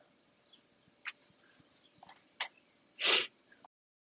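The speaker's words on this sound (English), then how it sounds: "I'm going to sneeze." A single loud, sharp sneeze bursts out near the end, preceded by a few faint sniffs and breaths in an otherwise quiet room.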